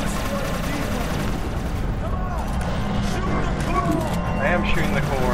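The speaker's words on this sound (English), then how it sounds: "I am shooting the core." Dense, continuous automatic gunfire hammers at the core during a co-op boss fight in the video game Inversion, mixed with game music and effects, with voices talking over it.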